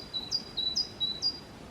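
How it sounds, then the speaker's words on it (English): Birds in an Estonian forest, Alam-Pedja, give a run of four or five short, high chirps in a steady rhythm, fairly clear over a faint airy background. "All I can hear is nature, the birds, the breeze."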